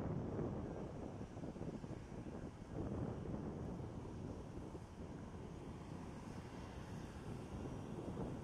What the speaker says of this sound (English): Now it's a 787-8 Dreamliner.